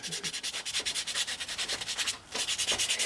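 Close, steady back-and-forth rasping of P180 sandpaper over spackling on a composition doll's forehead, a brief pause near the end before the rhythmic strokes resume, no voices.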